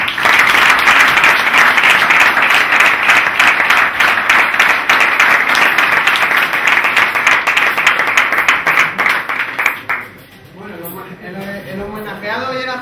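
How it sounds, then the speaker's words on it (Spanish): Sustained audience applause at a sports club Christmas gathering, dense and loud for about ten seconds before fading out, with a voice beginning to speak as it ends. "les pido un fuerte aplauso"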